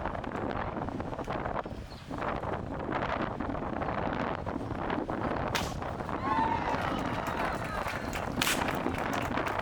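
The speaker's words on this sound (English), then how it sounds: "The wind's picking up." Wind blowing hard outdoors buffets the microphone in continuous rumbling gusts that swell and ease, with muffled voices faintly underneath.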